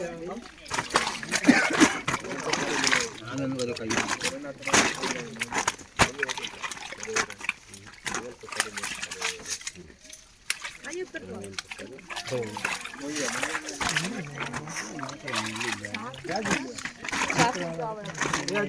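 Water splashes and sloshes continuously as people wade and catch fish in an artificial pond in Palakkad, with irregular close splatters throughout and several voices talking over it.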